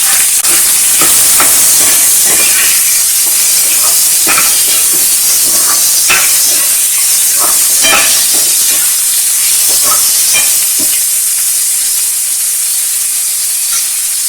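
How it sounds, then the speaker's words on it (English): Onions hit a hot pan for idly upma and set off a loud, steady sizzle with scattered crackles and stirring clicks throughout. The sizzle eases slightly toward the end. "Now I'm going to add some onions to it."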